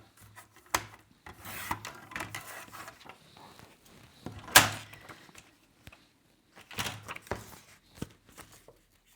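Scissors cutting through a paper picture for a junk journal, in several close bursts of snipping and rubbing with quiet gaps between, one sharper crisp cut standing out midway.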